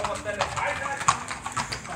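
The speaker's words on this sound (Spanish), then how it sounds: "Ahí está la gente a caballo, mire, listos que para el rodeo" Horses' hooves clop irregularly on the ground as riders gather on horseback for a rodeo in Jerez, Zacatecas, Mexico, close and moderate in level beneath people talking.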